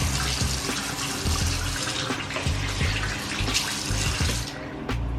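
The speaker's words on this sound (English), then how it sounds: "Let me wash my hands so I can put my contacts in." Hands being washed under a running bathroom tap, a steady close rush of water splashing into the sink with small shifts as the hands move through the stream, nobody talking.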